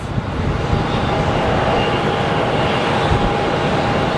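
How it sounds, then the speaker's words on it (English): A Bombardier Challenger 600 business jet takes off at Sky Harbor Airport, heard as a loud, steady broadband roar with a faint whine that holds evenly throughout, with no voices. "we have a Bombardier Challenger 600 that's taking off"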